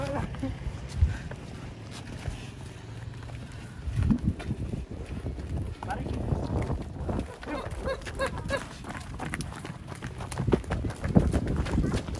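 Cattle running on a farm in the late afternoon, their hooves thudding in a rough clip-clop rhythm with wind buffeting the microphone, and people talking over it throughout.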